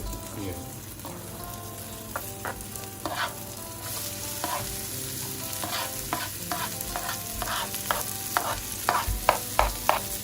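Cabbage and other vegetables stir-fry for chicken chow mein, a steady sizzling hiss broken by repeated scraping and tossing strokes that quicken toward the end, heard close up.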